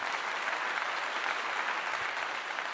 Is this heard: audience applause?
yes